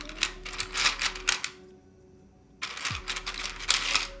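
Keycaps pressed onto a Theseus75 mechanical keyboard, producing dense clusters of sharp plastic clacks in two bursts separated by a quiet gap, close up and with no talking.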